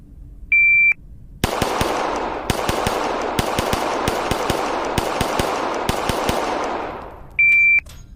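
Rapid pistol shots from a handgun with a red dot optic in a timed holster drill, a dozen sharp cracks at uneven spacing over loud continuous range noise, bracketed by a shot timer's high beep at the start and end.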